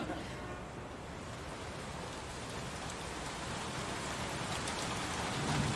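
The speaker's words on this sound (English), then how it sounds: "Hey, it's raining." Steady rain falls outdoors, a dense even hiss of drops on surfaces that swells slightly toward the end, with no talk over it.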